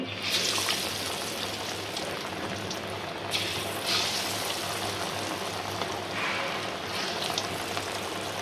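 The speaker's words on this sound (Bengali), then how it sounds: "তেলটা গরম হয়ে গেছে, অনেকই সুন্দর করে গরম হয়েছে। এখন আমরা বড়াগুলো দিয়ে দিতেছি।" Lentil fritters (dal bora) sizzle steadily in hot oil in a pan, a continuous bubbling hiss with a few brief louder spurts, close and fairly quiet, with no talking.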